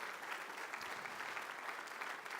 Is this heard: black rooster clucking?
no